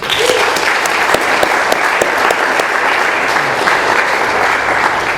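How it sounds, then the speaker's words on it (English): A roomful of people at an AA meeting in Doylestown, Pennsylvania, clap in a loud, sustained burst of applause with scattered sharper claps standing out, and no speech over it. "Let's have another round of applause for Adrienne."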